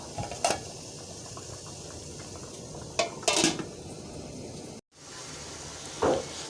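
A metal lid is set on a cooking pot while a palm-fruit cake cooks, making a few sharp clanks and rattles at intervals over a low background hiss.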